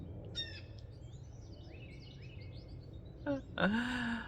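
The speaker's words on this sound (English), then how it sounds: "So many birds today." A few short bird chirps and calls ring out near the start and end over a quiet outdoor background.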